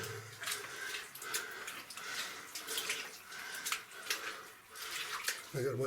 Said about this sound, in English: The water's running into the mine.